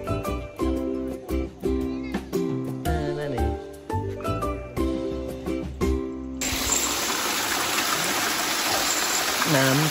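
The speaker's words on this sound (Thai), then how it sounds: "น้ำตก" A modest waterfall on a mountain near Chiang Mai gives a steady, full broadband rush of falling water, heard alone in the last few seconds after a stretch of music.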